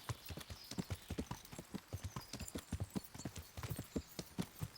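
Horse hooves clip-clop at a quick, even gallop in the medieval video game Kingdom Come: Deliverance, the unarmored horse running fast with a crisp, continuous rhythm of close hoofbeats.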